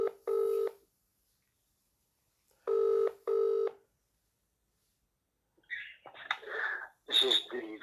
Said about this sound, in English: It's ringing, surprisingly.